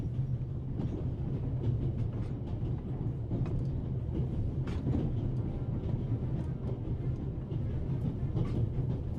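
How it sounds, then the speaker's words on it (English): A moving train in the video game The Raven Legacy of a Master Thief rumbles steadily with a low, continuous roar and faint rattling, loud and close throughout with no talk. "I think I should try to uncouple the engine. I mean, how else can I stop the train?"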